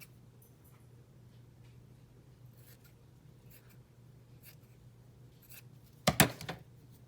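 Scissors snip once through a sheet of paper being trimmed for a garden journal tag, a short crisp cut near the end of an otherwise quiet stretch.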